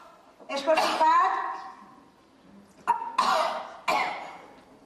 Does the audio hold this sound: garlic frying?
no